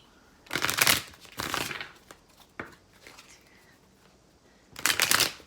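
Tarot cards being shuffled in several brisk riffling bursts separated by short pauses and light handling noises, close up.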